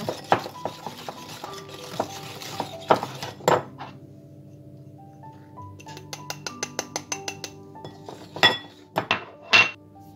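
Cake batter for a soft orange cream cake is mixed in a bowl, the utensil clinking and tapping against the sides in quick, irregular strikes, with louder knocks toward the end and a brief quieter stretch in the middle.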